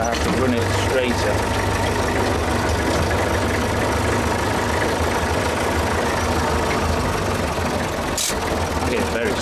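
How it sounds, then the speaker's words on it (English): Tractor engine pulling a plough on a Nordic homestead drones steadily and loudly throughout, a continuous mid-low rumble with a brief clunk near the end. "When I angle the plough too much, what happens is it just turns the whole tractor."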